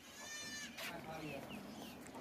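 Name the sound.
goat bleating, two-tooth sacrificial goat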